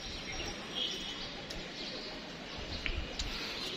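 Pigeons settling on a loft perch during a release give soft coos and a few chirps over steady broadband noise, fairly faint and distant, with no voices.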